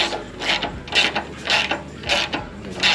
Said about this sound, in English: he's just using the bolt to tap it